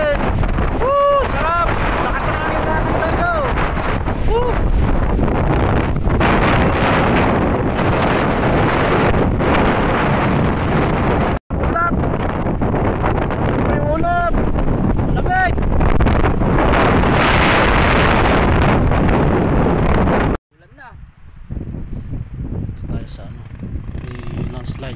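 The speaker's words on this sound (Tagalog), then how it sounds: "Lakas ng hangin natin" Strong wind roars and buffets the microphone almost constantly, with brief whoops and shouts over it, before it cuts to a quieter rumble near the end.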